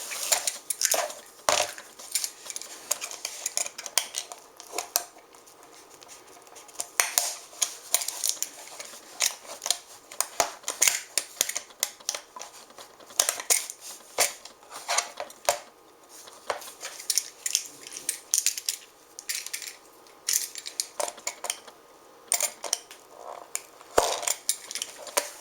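A knife scrapes and nips through the plastic of Sterilite shelf tote lids in a dense run of sharp clicks, snaps and scratchy cuts, close and fairly quiet, with no talking.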